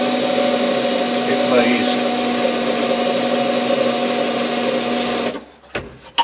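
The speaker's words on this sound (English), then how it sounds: "improve the spot slightly with a small drill." A small drill whines continuously while dressing a spot weld on an uneven, non-flat metal surface, a steady high-pitched tone for about five seconds before cutting off, followed by brief knocks and a few spoken words.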